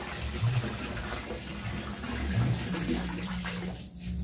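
Water draining out of a household water pump, a continuous close gushing and splashing flow with a couple of low gurgles, no talk.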